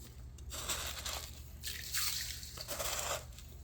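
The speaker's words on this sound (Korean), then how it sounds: "정수기 물 받은 거를 여기에다가 물 부을 만큼만 이렇게 버줘요" Filtered water pours into a container of radish water kimchi (dongchimi) in bursts. The splashing and trickling comes in several separate pours at close range, with short pauses between them.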